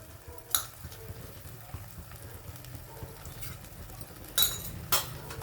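Masala with red chili powder and turmeric is sautéed in a pan as part of a ridge gourd curry, giving a soft, steady sizzle with a few sharp spoon scrapes against the pan.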